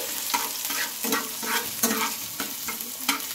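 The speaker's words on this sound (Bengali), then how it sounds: "তো এগুলো দিয়ে একটু ভেজে নেব।" Bread fries in a pan with chopped ginger and green chilies, a steady close sizzle with rhythmic scraping stirs of a spatula sweeping through every half second or so.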